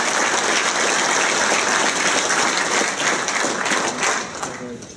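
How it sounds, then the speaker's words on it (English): Applause at a retirement party for a youth soccer organizer, a dense wash of many hands clapping steadily for about five seconds, tapering slightly near the end, with faint crowd murmur underneath. "And they deserve their applause too."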